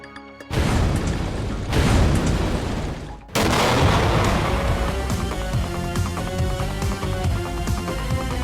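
A voice imitates a heart-shaking bomb explosion in loud, rough booming bursts. A dense blast starts just after the opening and a second heavy burst follows with a ragged, rumbling tail.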